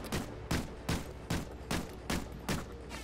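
Suppressed dual Magnum pistols fire in a video game, with seven evenly spaced muffled shots in a steady rhythm, each followed by a short decaying thud at moderate volume.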